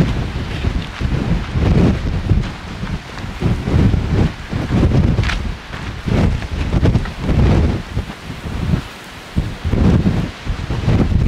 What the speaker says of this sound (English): This is just way too windy for my liking.